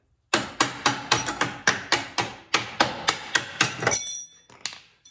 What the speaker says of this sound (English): and tap it through on the bolt.